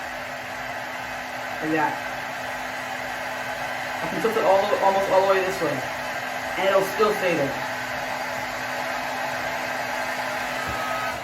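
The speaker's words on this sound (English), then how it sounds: "there's a column of fast air being created by this hairdryer" An electric hairdryer blows a fast column of air that holds a ball aloft. Its steady whirring drone runs throughout at close range, with a person talking over it.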